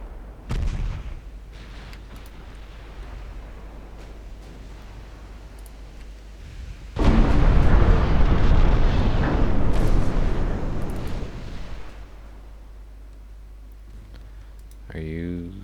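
Naval gunfire in the warship game Ultimate Admiral Dreadnoughts: a sharp early boom, a long stretch of low rumble, then a heavy sustained barrage of booming guns that fades, with a voice talking and mouse clicks.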